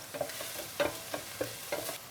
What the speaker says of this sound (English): Mix that through into the onions so that they temper nicely too